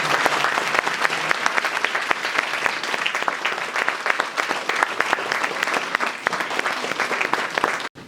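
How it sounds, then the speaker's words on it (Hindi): An audience at a BJP office gathering claps loudly and continuously in welcome, a thick wash of applause that holds steady before cutting off abruptly at the end. "हम सब लोग जोर से ताली बजाएं।"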